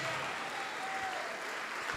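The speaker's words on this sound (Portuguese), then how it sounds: "Vamos aplaudir ao Senhor Jesus." A church congregation applauds for Jesus, a steady wash of many hands clapping at an even level across the whole moment, with faint background tones underneath.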